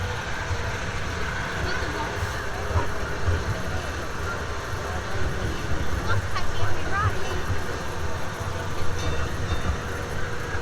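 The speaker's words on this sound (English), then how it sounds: "That's baby Arthur on his first ever go on the Lego train" A small ride-on Lego train at Legoland rumbles along steadily with a continuous low mechanical hum and faint squeaks, voices audible in the background.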